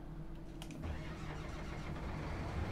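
In Farming Simulator 19, a combine harvester's engine cranks briefly, then catches and settles into a steady, rumbling mid-pitched idle that holds loud and close.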